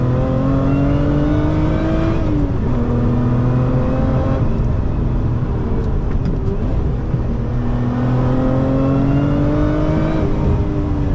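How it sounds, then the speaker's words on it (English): A manual Lotus Emira sports car accelerates hard on windy roads, its engine note climbing steadily through the gears with a brief dip at a shift, loud and continuous from inside the cabin. "Let's do a couple more acceleration pulls and windy roads"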